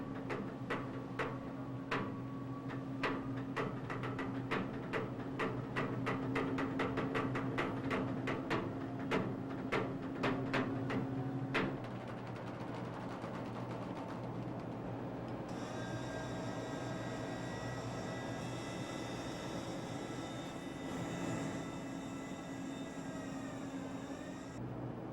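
A large ship's engines drone low and steadily throughout as it leaves the dock, fairly quiet, with a rhythmic clatter early on and a tonal whine joining later.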